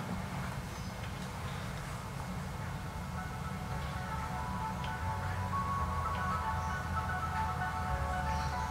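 A royalty-free song plays through Altec Lansing VS4621 computer speakers at half volume with bass and treble turned off, giving a steady, even mix picked up from the room.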